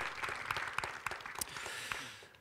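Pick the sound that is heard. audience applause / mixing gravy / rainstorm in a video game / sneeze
audience applause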